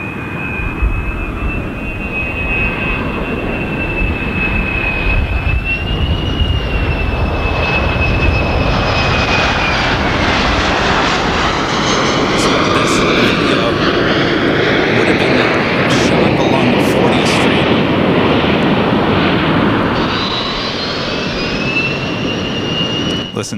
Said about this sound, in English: Listen to those 737-200s.